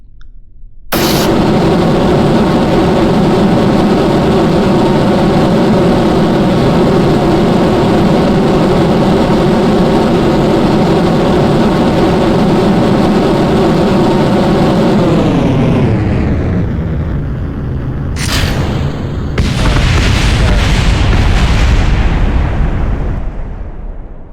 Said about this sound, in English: let's hope this doesn't explode as soon as I launch it